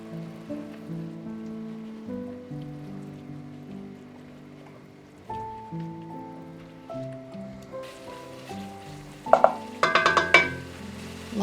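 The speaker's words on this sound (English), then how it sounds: "Now, stir in tomato paste," Tomato paste is stirred into a lobster bisque pasta sauce in a cast iron Dutch oven, giving soft wet scraping and clinks over low background music, busier near the end.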